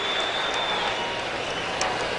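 An arena crowd at a Dallas slam dunk contest roars with steady applause and cheering after a dunk, a dense, continuous wash of clapping and shouting heard from within the stands.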